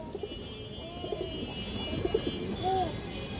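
Red-eyed pigeons coo softly at a pigeon seller's loft, their low cooing notes rising and falling over a steady background murmur, with a couple of brief clearer coos near the end.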